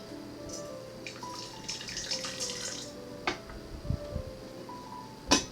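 Hot water is poured into a teapot to warm it, a soft trickling splash at close range, followed by light clinks of the pot near the end.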